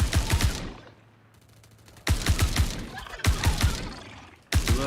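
Bursts of rapid video game gunfire, loud and close, come in three long volleys separated by short pauses.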